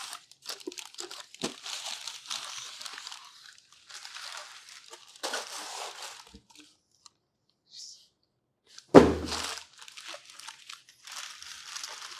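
A parcel wrapped in black tape is cut and unwrapped close up: bursts of crinkling plastic and tape, clicks and tearing come in irregular bunches with short quiet gaps and one sharp louder rip, no talk.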